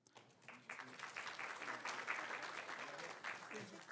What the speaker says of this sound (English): I'm going to read off the last 5 or 6 names so we can applaud for them